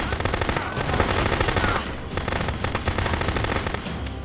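Sustained rapid machine gun fire in the video game Contraband Police, loud and dense, with bursts rattling continuously and occasional louder shots over the top.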